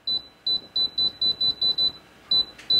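Kitchen oven timer sounding a run of eight short, evenly spaced high-pitched beeps, a pause, then two more, close and clear with no talk over it.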